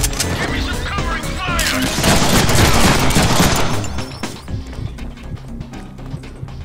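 Rapid, dense gunfire in the Deadpool action game, a loud sustained barrage of shots with crashing impacts that builds and then thins into scattered pops, with a voice speaking over it.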